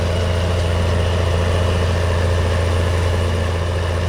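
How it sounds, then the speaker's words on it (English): Steady, loud engine drone of a tractor in Farming Simulator 19, a continuous low rumble with an even hum and no speech. "Right now I'm just going to go ahead and park my tractor right here."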